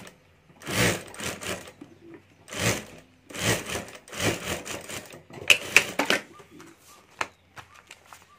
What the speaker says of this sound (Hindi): तो यहाँ मैं सिलाई कर ये दूसरा पार्ट जोड़ देता हूँ।